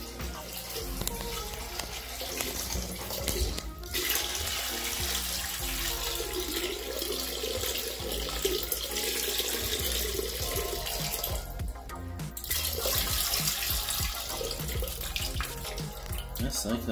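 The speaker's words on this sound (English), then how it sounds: "A little bit of water coming out." Water pours out of a Dometic 970 5-gallon portable toilet in a steady, splashing stream that runs continuously, dipping briefly twice before resuming at similar strength.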